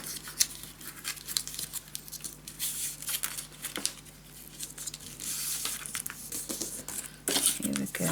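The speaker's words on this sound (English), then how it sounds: "let's fold first our gusset" Paper being folded and creased for a scrapbook album gusset, a steady run of close crinkling, rustling and soft handling noises with sharper crackles scattered throughout.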